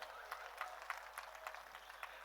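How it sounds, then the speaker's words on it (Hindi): An audience at a Hindi comedy poetry show applauds, a dense, even patter of many hands clapping at moderate volume with no one speaking over it. "ताली बजाओ"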